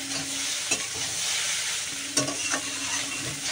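Food being stirred with vinegar in a frying pan: a steady sizzle with a few sharp scraping strokes of the utensil against the pan, close and alone.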